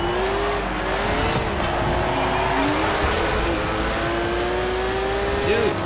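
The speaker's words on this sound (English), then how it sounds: "stop drifting at like every bloody turn" Porsche 911 GT3 (2004) engine and tire squeal as the car drifts through turns in the Forza Horizon 4 racing game, a steady loud engine drone with rising and falling pitch, gliding skids throughout.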